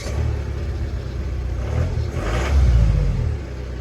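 A Volvo V70 D4 diesel engine runs to warm up, a steady close low rumble that swells slightly midway without talk.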